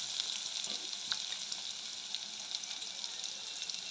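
Curry leaves and chopped onions sautéing in hot oil for a Jaffna-style prawn curry, giving a steady, even hiss of frying that is fairly soft and continuous throughout, with a few light stirring scrapes and no talking.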